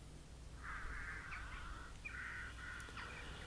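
Crows caw in an old region of the virtual world Second Life. Two long, harsh, drawn-out calls come one after the other at moderate distance over a low ambient hum.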